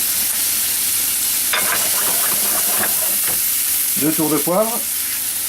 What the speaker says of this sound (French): On va utiliser la graisse des lardons pour faire sauter les champignons.